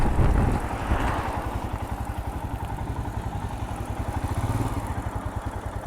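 A Royal Enfield Himalayan motorcycle engine runs steadily at low revs while the bike turns around, with a fast, even thumping pulse that stays close and fairly loud throughout.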